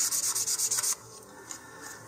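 Quick back-and-forth rubbing of fine grit black sandpaper on a model rocket part, about eight rapid strokes in under a second, close up, then quiet; no talking.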